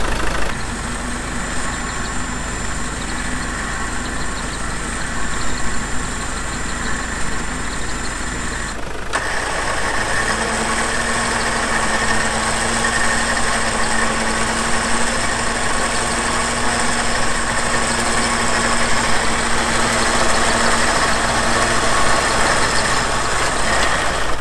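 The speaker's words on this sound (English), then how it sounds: "Okay, the winch works." A camper truck's electric winch runs with a steady loud mechanical drone beside the engine hum, briefly cutting out and restarting partway through, then continuing evenly with no talk.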